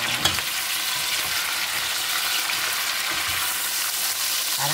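Chicken sautés in a pan for tinola, a steady close sizzle with a soft stirring knock at the start and light scraping, no speech.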